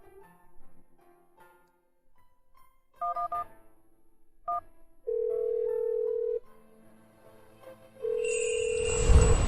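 A mobile phone places an outgoing call: a few short keypad-style tones, then two long, steady ringback tones separated by a pause, fairly quiet and with no voices.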